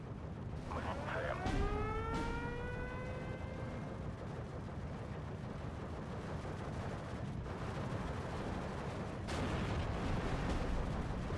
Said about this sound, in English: Heavy artillery coming in on this side.